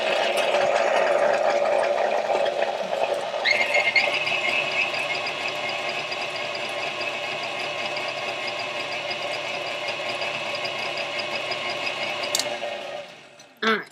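An electric mixer beats chocolate chip cookie dough with a steady, whirring motor drone and a faint rattle, running continuously at moderate level before it stops at the end.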